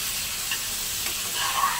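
Beef liver and potatoes fry in a pan with a steady, close hiss of sizzling oil and faint stirring, with no talk.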